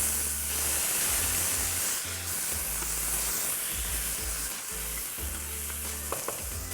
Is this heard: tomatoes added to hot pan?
yes